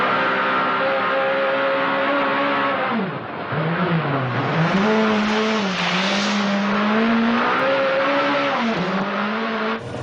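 A rally car driven hard and sliding sideways through a turn, its engine note rising and dipping with throttle changes over a steady loud drone of tyres and gravel, continuous and close throughout.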